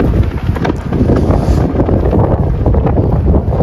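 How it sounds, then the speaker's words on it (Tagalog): Loud, gusty wind in Canada buffets the microphone in a constant low rumble, surging and easing without pause, on a cold day. "lakas ng hangin"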